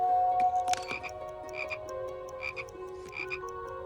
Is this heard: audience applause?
no